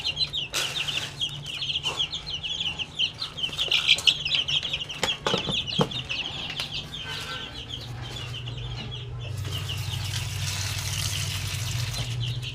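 Hungry backyard free-range chicks peep continuously at feeding time, a dense chorus of high, shrill cheeps with occasional clucks and wing flutters nearby, and no talking.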